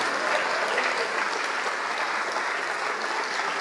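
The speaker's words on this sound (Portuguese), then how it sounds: "Vamos aplaudir mais" Church congregation applauding during a Portuguese-language worship service, a steady dense wash of many hands clapping that holds evenly throughout without a break.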